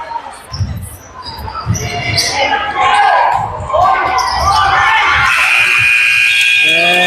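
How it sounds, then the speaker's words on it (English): End-of-quarter buzzer sounding at a junior varsity basketball game, a sustained electronic tone rising over a loud gym crowd and court noise in the last seconds, with a commentator talking earlier. "And that'll be the buzzer for the second quarter there."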